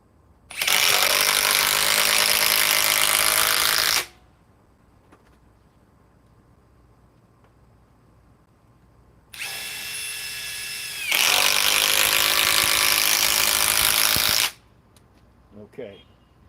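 A Metabo HPT triple hammer cordless impact wrench runs in two loud bursts, about three and a half seconds then a pause, followed by a longer five-second run with a brief higher-pitched start, close and steady.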